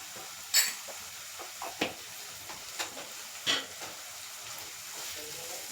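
Onion frying in a pan with turmeric and salt, a soft low sizzle broken by a few sharp utensil scrapes and taps, close by and fairly quiet, without talk.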